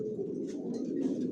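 Long-distance racing pigeons coo softly in a loft, a low murmuring burble from several birds, steady and close with no voices.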